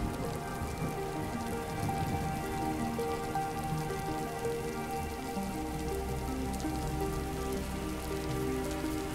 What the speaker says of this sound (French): il se mit à pleuvoir jusqu'à qu'il en devienne dangereux